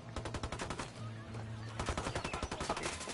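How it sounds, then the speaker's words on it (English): Automatic weapon fire from the Ghost Recon Wildlands video game, with loud rapid bursts that run almost without a break and keep a fast rattling rhythm throughout. "Opening fire."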